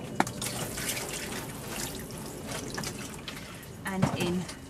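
Water is poured gently over freshly sown aubergine seeds in compost, a soft, close splashing and trickling trickle, briefly louder near the end.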